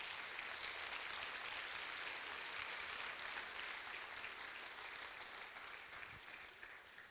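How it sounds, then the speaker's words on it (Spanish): An audience applauds steadily at a church-style gathering, dense sustained clapping that fills the space and tapers slightly toward the end, heard at a moderate distance. "Dale un fuerte aplauso al Señor."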